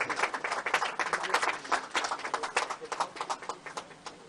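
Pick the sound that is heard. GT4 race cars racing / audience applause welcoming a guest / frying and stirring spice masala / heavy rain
audience applause welcoming a guest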